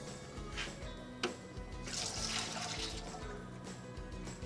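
Water is poured into a bowl of cupcake batter made with sour cream, enough for about 30 cupcakes. It makes a faint, close splashing trickle over a few seconds, with one brief louder slosh partway through.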